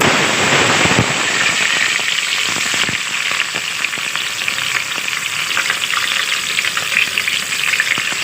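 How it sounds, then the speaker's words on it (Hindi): Onions and green chillies frying in hot mustard oil, a loud, dense crackling sizzle that stays steady, with a few sharp spatters and stirring scrapes early on. "अब इसमें ये प्याज और ये हरी मिर्चें लाल करूँगी।"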